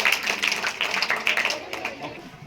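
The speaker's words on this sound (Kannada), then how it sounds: "ಜೋರಾದ ಚಪ್ಪಾಳೆ ಬರಲಿ." A school quiz audience breaks into brisk, fairly close clapping for a correct answer, with the applause fading after a couple of seconds and voices mixed in.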